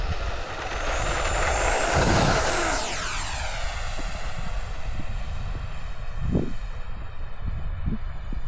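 A 64mm RC model jet passes at dusk, its turbine whine rising loud and high as it sweeps by, then sliding down in pitch and fading into the distance.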